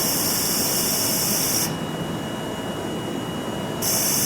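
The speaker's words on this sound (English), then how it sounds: "the motor starts as soon as it has gone below 125 bar, which is the setting for the accumulator min" Hydraulic pump motor on an accumulator system cutting in as pressure falls below 125 bar, a loud steady broadband whir with a dip partway through before the full roar returns, no voices.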